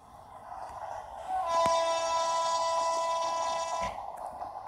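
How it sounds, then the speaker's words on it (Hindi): A long, loud horn blast from the Kota Jan Shatabdi train, one sustained tone lasting a few seconds over the rumble of the moving train, with no talk. "पूरी तेज़ हॉकिंग के साथ जाएंगे."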